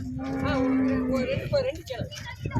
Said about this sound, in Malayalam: ഈ രണ്ട് പശുക്കൾ എങ്ങനെയാണ് ഡീറ്റെയിൽസ്